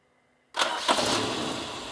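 A Toyota Kijang car engine is started while hot: after a moment of near silence the starter cranks briefly, then the engine catches and settles into a steady close idle.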